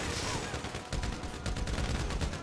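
Dense, continuous gunfire from the GTA V video game, a sustained loud barrage of shots with short bursts and heavy low rumble filling the whole stretch.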